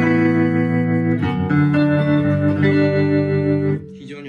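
An electric guitar played through a Milkman Sound The Amp pedal amplifier with tremolo switched on sustains ringing chords with a pulsing shimmer, loud and close, before the notes drop away at the end.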